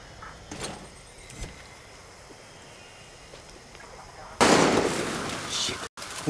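Gunfire in the video game Far Cry 6: a quiet stretch with faint clicks and murmured voices, then a sudden loud burst of shots that carries on for about two seconds, close and harsh.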